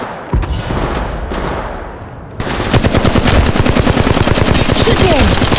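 Automatic weapon fire in the mobile game Apex Legends Mobile, first a sustained burst, then a loud, dense rapid-fire stream of close shots dominating the mix, with no voices over it.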